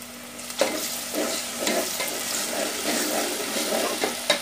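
Whole spices, green and black cardamom, cinnamon, cumin and black pepper, sizzle and crackle in hot oil with steady frying hiss and occasional stirring clinks, close and moderately loud.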